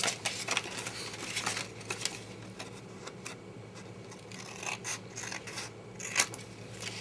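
Scissors snipping the sides of a paper treat box, a busy run of close crisp cuts and rustling paper throughout, with no talking.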